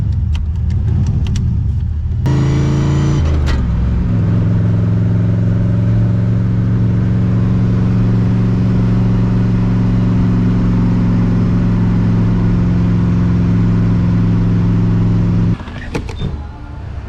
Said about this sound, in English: I guess it's been a while since I cruised the Supra at night.